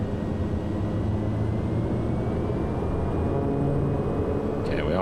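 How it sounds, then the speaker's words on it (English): Pilatus PC-12 turboprop taxiing in Microsoft Flight Simulator, heavily loaded: a steady, close engine drone with a thin high whine, holding even and continuous throughout. "Then we can disengage the parking brake and let's taxi out of here."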